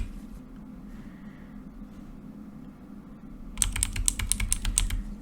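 Computer keyboard keys tapped in a quick burst of about eight crisp clicks after a stretch of low background hum, the presses close and distinct.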